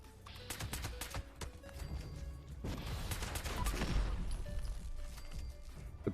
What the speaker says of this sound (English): A pretty accurate pistol.